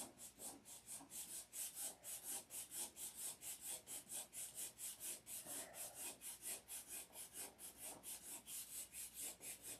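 Hand color sanding of a lacquered finish with water, steady rhythmic back-and-forth rubbing strokes, close and fairly quiet, repeating evenly with no talking.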